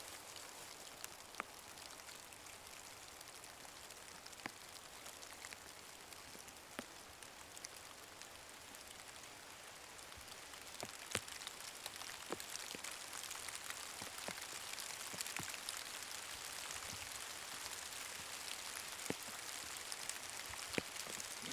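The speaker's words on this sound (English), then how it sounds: "Comes the rain." Rain falls on a wooded horse trail, a steady soft hiss of drops with scattered sharper patters on leaves and ground, growing slightly heavier midway and continuing evenly with no voices.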